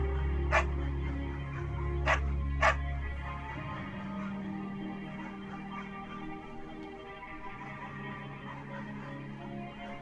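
Three sharp dog barks ring out in the video game Firewatch, two close together, over a steady low ambient drone and soft game tones.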